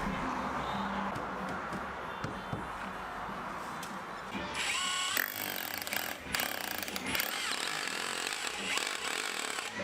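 A power drill bores into building blocks for a new workshop wall, a rough grinding whine that grows harsher and louder midway, close and continuous with no talk.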